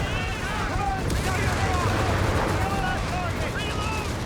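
Company of Heroes 3 battle with steady gunfire crackling under a wash of rumbling combat noise, moderately loud and continuous, while voices call out over it.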